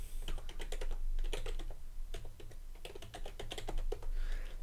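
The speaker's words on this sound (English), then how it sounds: "You can punch in your email and then type it again just to confirm it." Rapid keystrokes on a computer keyboard, close and crisp, in quick irregular bursts with brief pauses, over a low steady background hum.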